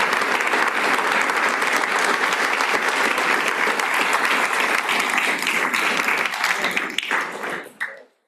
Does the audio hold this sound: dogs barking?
no